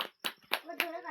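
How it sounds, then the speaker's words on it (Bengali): Hands clap a few times in quick, uneven bursts at a birthday celebration, close by, with a voice in between. "হাততালি"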